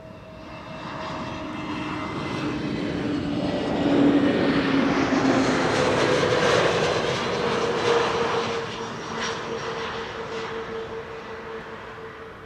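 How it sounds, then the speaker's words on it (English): An EasyJet Airbus A320neo arriving from Gatwick at Amsterdam Schiphol passes overhead, its jet roar swelling to a peak midway and then slowly fading, with no voices. "EasyJet flight 28674 arriving from Gatwick, A320 Neorio"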